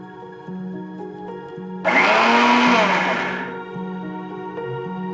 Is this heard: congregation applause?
no